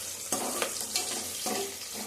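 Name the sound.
onions frying in a pan for green chicken biryani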